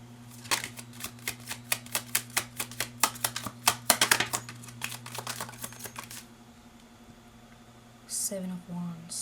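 Tarot cards riffle and snap in a quick run of about twenty crisp clicks, close and distinct over a low hum, then stop; a voice speaks briefly near the end.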